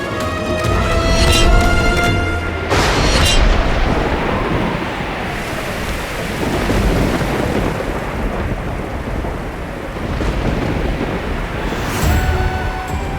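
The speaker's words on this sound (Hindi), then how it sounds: "भयंकर बारिश होने लगी है।" Heavy rain pours in a dense, roaring wash, with deep rumbles of thunder rolling underneath and gusts of wind.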